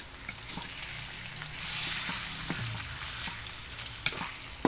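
Beef for beef with broccoli frying in a pan gives a steady loud sizzle and crackle with occasional stirring knocks and scrapes, close up and without talk.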